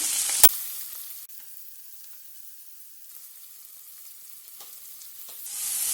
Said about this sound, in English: I'm heating 2 tablespoons of vegetable oil and I'll add in finely chopped onion.